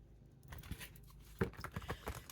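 Quick papery riffling and flicking of tarot cards being shuffled close up, a run of soft crisp snaps and rustles over a couple of seconds.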